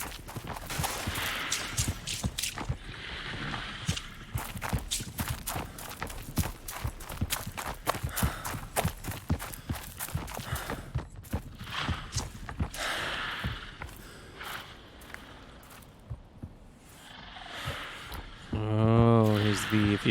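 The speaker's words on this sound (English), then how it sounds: "Like, the footsteps sound close," Heavy hoofbeats and footsteps of a creature in the horror game Ad Infinitum, dense rhythmic thuds running steadily and then thinning out, with someone talking over them and a sharp cry near the end.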